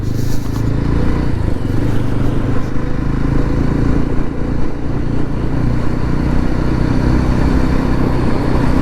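Motorcycle cruising on an open road during a long-distance road trip, with a loud, steady engine drone and rushing wind noise throughout and no talking.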